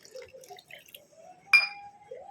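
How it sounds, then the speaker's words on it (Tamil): Water is poured onto custard powder and stirred to dissolve it, giving faint liquid trickles and soft taps, then one sharp spoon clink against the bowl followed by a brief ringing tone. "இப்போ இதில் வந்து தண்ணி விட்டு நல்லா கரைச்சிக்கலாம்."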